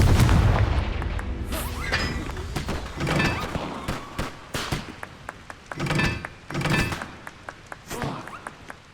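The Confringo blasting spell explodes in Hogwarts Legacy, giving several deep booms and thuds scattered among sharp clicks and knocks, with the loudest blasts spaced a few seconds apart.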